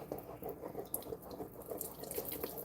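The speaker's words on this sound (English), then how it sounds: "be careful pouring this hot butter in" Hot melted butter poured into sourdough rye English muffin dough, a faint continuous trickling liquid sound with soft drip-like pulses, close and quiet with no talk.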